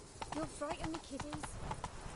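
Horse hooves clop at a walking pace on the ground in The Witcher 3: Blood and Wine, a few close strikes heard under a voice.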